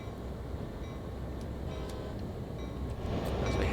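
CSX freight train pulling away from a yard in Train Sim World 5, a dense rumbling engine drone with faint rail clatter that swells slightly louder toward the end.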